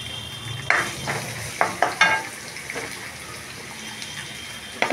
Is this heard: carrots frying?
yes